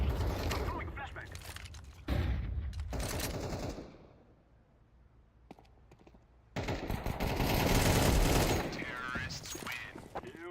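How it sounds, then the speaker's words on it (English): A flashbang grenade goes off in Counter-Strike 2 amid clattering game mechanisms and gunfire bursts, with loud, dense passages broken by a quieter gap, and a voice talks over parts of it. "I'm throwing flashbang."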